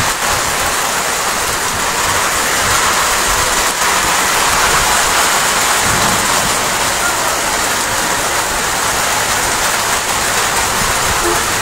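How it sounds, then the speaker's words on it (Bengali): Heavy rain pours down beside a roadside, a loud, steady, unbroken rushing roar that stays at full strength throughout. "বৃষ্টি থাকবে, কয়েক ঘন্টা থাকবে হয়তো বৃষ্টি।"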